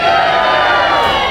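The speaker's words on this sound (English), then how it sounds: "I want one big cheer" A crowd gathered for the public reveal of a Lamborghini drift car with an 850hp 2JZ engine swap lets out one big cheer, a brief, loud and sustained roar of voices.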